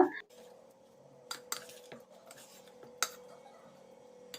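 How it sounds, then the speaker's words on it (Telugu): A spoon mixes banana, beaten rice and grated jaggery in a bowl, giving soft stirring scrapes and a few sharp clinks against the rim, close and quiet. "ఇప్పుడు ఈ మొత్తం కూడా కలిసేలాగా ఒకసారి బాగా కలబెట్టుకోవాలన్నమాట"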